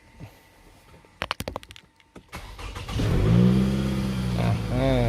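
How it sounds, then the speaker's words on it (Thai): A Toyota car engine cranks with a brief burst of clicking, then catches and settles into a steady, loud idle that continues to the end. "ดังนั้นเราก็ทำการสตาร์ทเครื่องยนต์ครับ ลองสตาร์ทเครื่องยนต์ดูฮะ"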